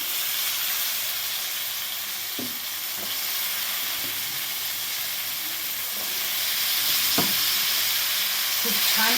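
Cut potatoes frying in hot oil seasoned with homemade red chilli powder for a Marathi potato bhaji, giving a steady close sizzle with occasional soft stirring knocks and scrapes and no talking.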